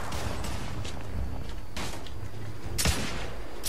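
Suppressing gunfire in the video game The Order: 1886, a series of loud, sharp gunshots spaced irregularly over steady background rumble, heard up close.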